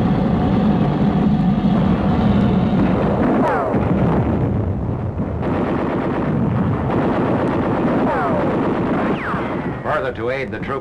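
Battle fire against machine gun nests pinning down forward units on rugged hills, heard as a dense, continuous roar of gunfire and distant blasts, with occasional whistling sweeps over a constant rumbling din.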